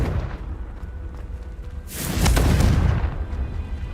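A single Confringo spell explosion from Hogwarts Legacy, a loud, close booming blast that hits suddenly and rumbles away over about a second, following a quieter stretch of low game ambience.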